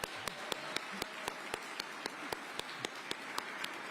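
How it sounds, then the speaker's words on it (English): An audience applauding the mayor at a Veterans Day event, a sparse, steady rhythm of single claps spaced evenly, fairly faint and distant. "Another round of applause for the mayor"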